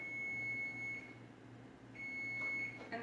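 A kitchen timer, set while cooking everything bagels, gives a high, steady electronic beep, stops, then beeps again over a quiet room with a low hum.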